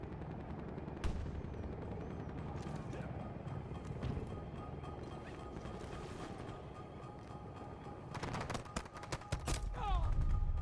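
Rapid gunfire from an AK rifle in Battlefield 2042 blends with a steady clatter and game noise, ending in a cluster of sharp, louder shots over the last few seconds.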